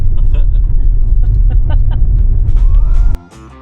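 A car drives along a remote one-lane road, its engine and tyres a loud steady close rumble inside the cabin until the sound drops away sharply near the end.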